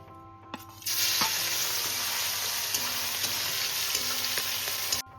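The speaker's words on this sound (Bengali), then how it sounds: "এবার চিংড়ি মাছটা ভেজে তুলে নিচ্ছি" Shrimp rubbed with salt and turmeric fry in hot oil, a steady loud sizzle that bursts in after a brief quiet start and holds evenly with small pops until cutting off near the end.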